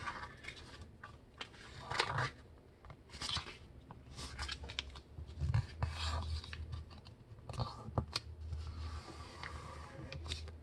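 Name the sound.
paper being folded for a paper sword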